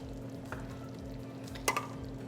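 Sour cream stirred into a chicken sauce in a pan, with soft scraping strokes over a low steady hum and a brief clatter near the end, quiet and close with no talking.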